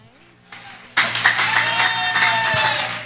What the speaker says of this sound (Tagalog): Lahat po tayo pumalakpak.